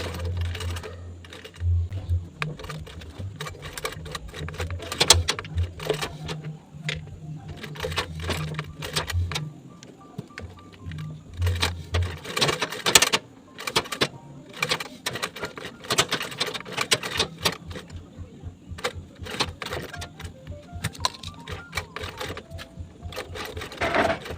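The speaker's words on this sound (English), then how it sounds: "I'm sewing a straight stitch." A sewing machine runs a straight stitch along a bag flap in short starts and stops, its motor whirring between bursts of rapid clicking with occasional handling noises.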